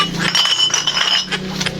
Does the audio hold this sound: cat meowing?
no